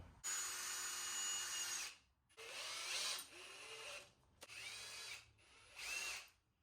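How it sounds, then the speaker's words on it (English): A power drill drives screws into a wooden garden arbor, with four loud whirring bursts of a couple of seconds each and short silent pauses between them, close by. "I think I'm just going to put 2 screws in each side"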